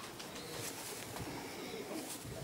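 Caged pigeons cooing softly amid a steady background hum, with faint overlapping bird calls and no clear voices.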